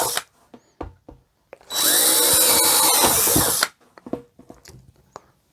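A power drill bores drainage holes through a plastic flower pot in one loud, steady burst lasting about two seconds, with quieter handling clicks and taps before and after.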